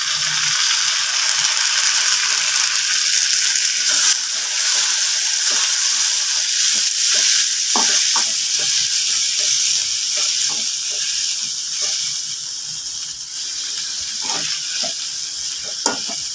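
Chopped tomatoes sizzle loudly in hot oil while frying for Tamil egg gravy, a dense steady hiss broken by scraping clicks of a spatula stirring the pan.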